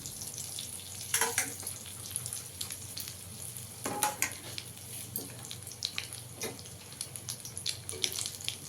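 Egg paratha frying in a pan over a low gas flame, with a steady soft sizzle broken by a few louder crackling bursts and scrapes, close by and without talk.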